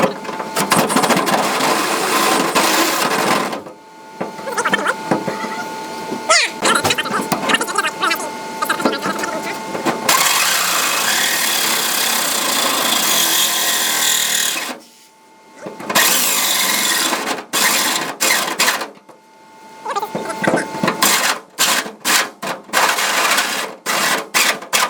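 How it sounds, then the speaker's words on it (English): A power drill bores holes for a B&W hitch installation under a truck, long loud grinding runs broken by short pauses and stuttering bursts, close by and harsh. "And yeah, I'm gonna drill that."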